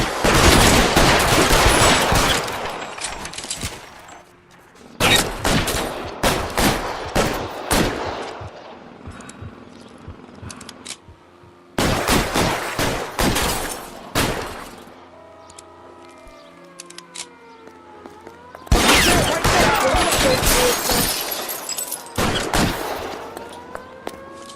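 Rapid, loud gunfire from a shootout in the video game L.A. Noire, with dense bursts of shots in several volleys separated by brief lulls in which a siren-like wail rises and falls in the background.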